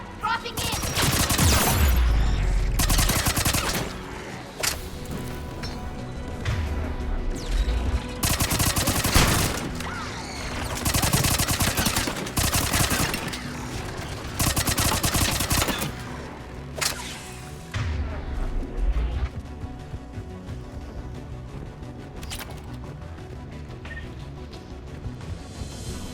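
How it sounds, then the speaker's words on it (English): Heavy anti-aircraft gunfire in the video game Mass Effect 3, loud sustained bursts of rapid firing with booming thuds and explosions, pausing briefly between volleys and easing toward the end. "AA guns ahead of us."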